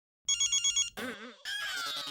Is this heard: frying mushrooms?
no